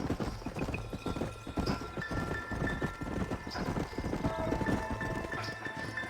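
Horses clip-clop at a steady walking pace in the Western game Red Dead Redemption, hooves thudding repeatedly and close, with a faint whinny now and then over a soft ambient background.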